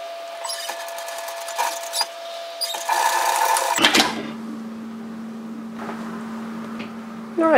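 A sewing machine stitching the facing of an apron dress into place, running in several short bursts of stitching with pauses, then a steady lower hum after a bump near the middle, close and fairly loud.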